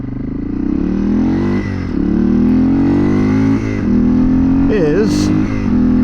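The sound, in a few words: 1993 Yamaha XT225 Serow motorcycle engine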